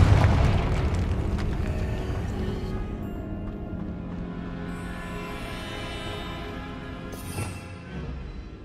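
A Confringo explosion spell blasts in Hogwarts Legacy, opening with a loud booming burst that fades into a long, dense rumbling tail with no talk over it.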